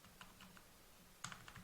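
Keystrokes on a computer keyboard entering an MFA code, a quiet run of light clicks with a slightly firmer pair of taps near the end, close and alone.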